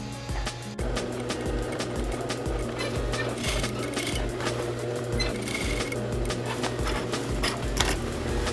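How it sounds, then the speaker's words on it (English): A sewing machine stitches a dart on barrel-style jeans, a fast steady mechanical whirring with needle clatter, close and continuous for several seconds after a brief opening hitch, with no talking. "I'm gonna go back to the machine, stitch again."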